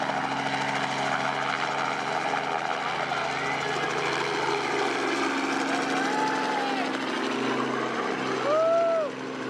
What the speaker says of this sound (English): There was also a helicopter.